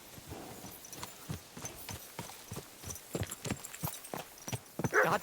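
Horse hooves pound in a steady galloping clip-clop during a horse race in Kingdom Come: Deliverance 2, a regular beat of fairly close impacts with a brief louder burst near the end.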